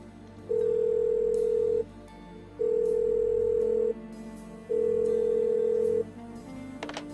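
A phone call placed in the point-and-click game Blackwell Unbound rings out as three long, steady tones, each about a second and a half with short gaps between them, loud and clean with no talk.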